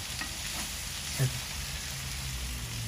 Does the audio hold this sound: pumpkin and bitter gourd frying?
yes